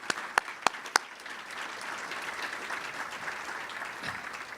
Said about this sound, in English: and I think they need a round of applause.